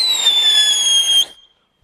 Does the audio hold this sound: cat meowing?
no